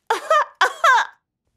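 A cartoon parrot named Polly imitates an old pig's coughing, giving two or three rough, voiced cough bursts with a short gap between them and a brief start of another at the end.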